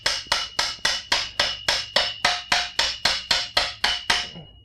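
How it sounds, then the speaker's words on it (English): A hammer taps a BMX crank spindle through its bottom bracket with about fourteen sharp metallic strikes in an even, brisk rhythm, close up and alone. "you can take a hammer if you like, and just kind of hammer it through just a little bit"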